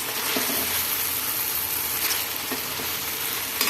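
Masala frying with onions in a pan for chicken curry, a continuous loud sizzle with occasional stirring scrapes and light taps, no talking.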